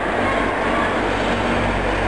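A metro train rumbles past close by, a loud, steady roar of wheels and carriages that fills the whole moment without letting up.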